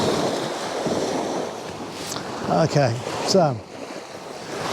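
Ocean surf washes onto a beach in rain, a steady broad roar of waves with wind buffeting the microphone, while a person speaks briefly near the middle.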